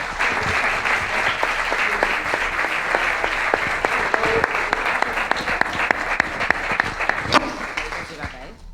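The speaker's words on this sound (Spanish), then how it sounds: "Un aplauso a ellas," An audience at a parapsychology session applauds for several seconds, a thick wash of claps with individual sharp hand strikes popping out near the front, some voices mixed in.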